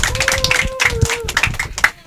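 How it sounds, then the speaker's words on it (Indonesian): An audience at a Ramadan children's preaching event applauds a young girl preacher. Loud, dense clapping fills the short stretch, with voices mixed in among the crowd. "Boleh tepuk tangan sekali lagi dong buat Ananda Dila."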